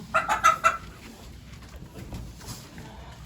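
A chicken clucks a few quick, close notes at the start, followed by quieter scratchy farmyard noises and soft rustling.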